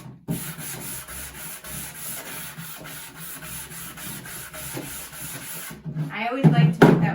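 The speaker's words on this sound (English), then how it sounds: "you can sand up the edges a little bit" Edges of a painted wood sign being sanded by hand, a steady close rubbing scratch repeating in even strokes, followed by a few brief clattering handling noises at the end.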